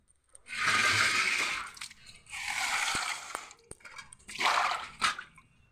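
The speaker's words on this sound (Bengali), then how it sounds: "এই যে এখন শাকটা ধুয়ে নেব, ভালো করে না ধুলে শাক খাওয়া যাবে না।" Water runs and splashes over radish greens being washed by hand in three separate bursts, close and fairly soft, with small drips and rustles in the pauses between.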